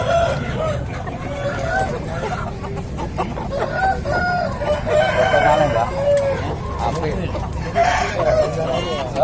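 Roosters and chickens, many of them Bangkok fighting-breed birds, crow and cluck again and again at a crowded chicken market in Ngemplak, Tulungagung, over a steady murmur of people talking.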